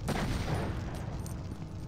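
Bazooka blasts in a Lego Indiana Jones video game, a dense, loud run of booming shots and rumbling impacts that carries on through the whole moment with no pause.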